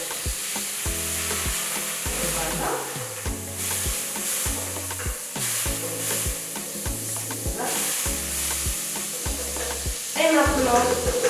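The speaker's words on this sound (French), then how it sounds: "on va passer à la cuisson de la viande" Meat frying loudly in Kadi margarine for tortillas, a steady close sizzle with stirring scrapes and a few pulses. Background music plays throughout, and no one speaks.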